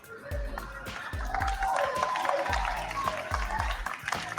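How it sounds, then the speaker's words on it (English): A political rally crowd cheers and applauds loudly and continuously, with a rhythmic low thumping beat running under the noise throughout. "Crowd goes wild."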